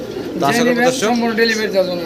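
Lakka pigeons at a market stall give a close, continuous throaty cooing with rolling, wavering notes that run through the whole moment.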